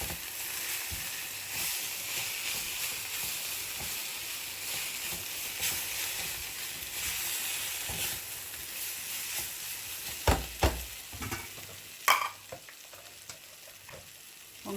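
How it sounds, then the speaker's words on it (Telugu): Fried eggplant slices stirred into a sizzling onion-tomato mix in a pan for a Rajasthani-style baingan curry: steady close frying hiss throughout, broken near the end by a few sharp clanks and scrapes of the spoon. "ఈ స్టేజ్లో మనము ఫ్రై అయిన వంకాయ స్లైసెస్ అన్నిటినీ కూడా వేసేసుకొని బాగా మిక్స్ చేసుకుందాం"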